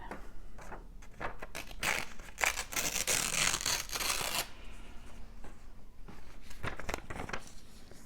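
Paper torn by hand for a red and gold collage, a close, dry ripping and crinkling burst of a couple of seconds amid softer handling rustles, heard up close in a quiet room.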